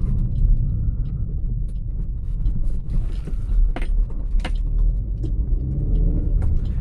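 A Maruti Suzuki Swift engine hums steadily from inside the cabin while driving, with low road rumble and occasional faint clicks and rattles.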